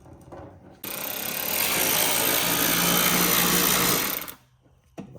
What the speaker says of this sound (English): we're gonna start taking out all the different screws that attach the front bumper